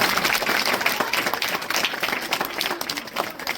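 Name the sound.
applause welcoming a teacher at a farewell ceremony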